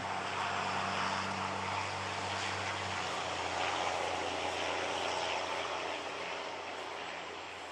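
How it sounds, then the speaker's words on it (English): A straight-piped diesel truck passes on a road at a distance, its loud, continuous engine roar and low rumbling drone dominating throughout before easing slightly toward the end. "That is a straight pipe diesel going by in the road down over there."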